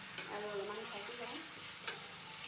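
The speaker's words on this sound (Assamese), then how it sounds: "আৰু বিলাহীখিনি গলাত মই ইয়াতে মাংসখিনি দি অকণমান ভাজি ল'ম" Goat meat fries with softened tomatoes in a wok, giving a faint, low sizzle with two brief sharp clicks of stirring.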